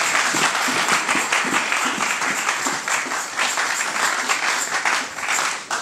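A church congregation at Sunday worship applauds God with loud, sustained clapping from a large crowd, dense and steady, with faint voices underneath.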